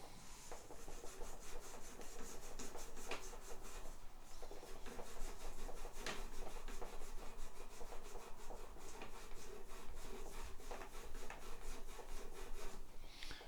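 Steel wool is rubbed back and forth over guitar fret ends during fret polishing, making a quiet, continuous scratchy rasp in quick repeated strokes without pause.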